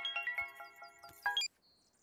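A phone ringtone plays a short electronic melody of bright, repeating tones that stop abruptly, leaving a faint tail; no talk is heard over it.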